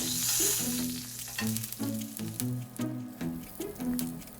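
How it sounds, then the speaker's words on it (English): Eggplants sizzling on a grill as they char and soften, a steady close frying hiss broken by soft stirring and shifting sounds, with faint tonal hums underneath and no talking. "for several minutes on each side until the eggplants are charred and starting to soften"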